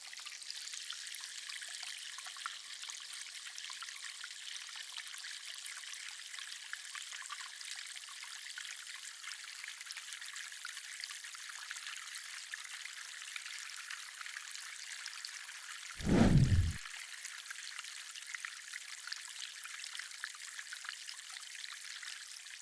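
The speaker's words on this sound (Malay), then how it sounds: "Okay, sekarang filter tu dah dipasang dan dah jalan." Nano aquarium filter running in a small planted tank, giving a faint, steady trickle of water that continues throughout, with one brief louder bump partway through.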